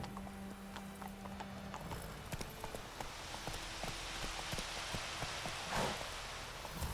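Horse hooves clip-clop steadily in The Witcher 3 video game, a continuous even trot running the whole stretch at moderate level over soft ambient noise with faint rain, no talking.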